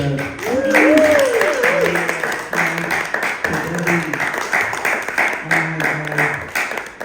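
Applause and clapping from an audience at a reproductive justice rally, a moderate patter of hands blended with chatter and voices throughout.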